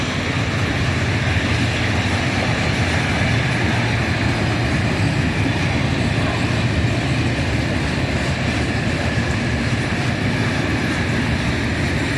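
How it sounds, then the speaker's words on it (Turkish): A train rumbles past close by on tracks in front of a house, a loud, continuous roar and rattle of wheels holding steady throughout. "Tren de geçiyor arkadaşlar."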